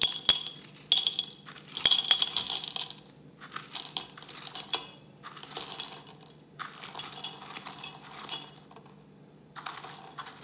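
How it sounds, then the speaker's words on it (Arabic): Caustic soda, about 75 grams for a turmeric soap batch, is measured out in short bursts of bright rattling and clinking, with pauses between pours and a few sharp taps. "هلا بدنا نحط الصودا الكاوية اللي هي 75 جرام."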